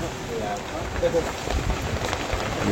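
Steady rain patters on a vehicle's roof during a car ride in Aceh Singkil, a constant dense hiss throughout.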